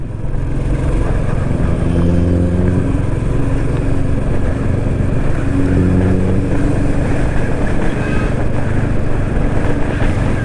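Exhaust of a modified, lowered Skoda Octavia vRS making over 245 bhp, a loud continuous low rumble with wavering engine tones that rise and fall, steady throughout with no talk.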